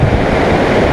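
Strong ocean waves at sea during a fishing trip: a loud, continuous roaring wash of surf with buffeting wind noise on the microphone.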